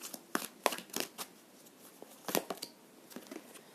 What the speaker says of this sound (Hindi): Let me take one more card from this deck.